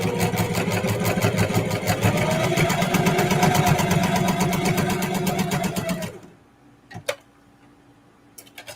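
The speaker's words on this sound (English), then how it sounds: "I'm going to sew this right alongside of the stitching that I just sewed" A sewing machine runs steadily for about six seconds, stitching a denim and fabric-scrap quilt block alongside an earlier seam, then stops abruptly, leaving quiet with a couple of faint clicks.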